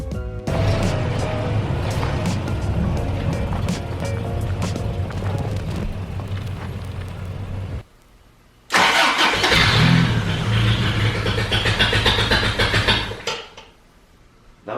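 A 1985 Toyota 4Runner engine cranking hard without catching, a loud close churning run of about eight seconds, a brief pause, then a second long cranking burst that fades out.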